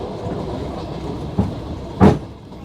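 A passenger train rolls along its rails with a steady rumbling clatter, broken by two sharp clacks of wheels over rail joints near the end.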